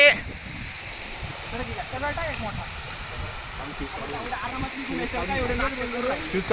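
Water flows steadily near a hidden waterfall with a continuous broadband rush, while people talk over it throughout.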